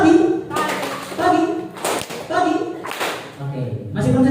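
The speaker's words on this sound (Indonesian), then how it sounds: "Ketika saya bilang pagi, tepuk tangan satu kali." Sixth-grade pupils in a character-building class clapping in unison on cue, several sharp group claps separated by a teacher talking between them.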